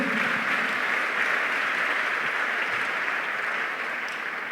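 A church congregation breaks into sustained, dense applause to acclaim Jesus, a steady wash of many hands clapping that holds evenly throughout.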